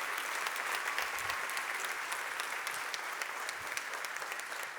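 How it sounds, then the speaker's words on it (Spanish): A church congregation applauds in a steady, dense wash of clapping that fills the space at even loudness, with no clear speech on top. "Un aplauso,"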